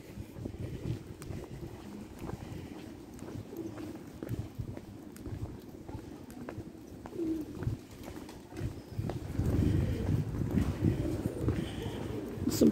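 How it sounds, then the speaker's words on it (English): Pigeons coo softly beside the Union Canal in Edinburgh, faint and partly buried under outdoor wind noise and microphone rumble, which grows louder toward the end. "Some pigeons that live there."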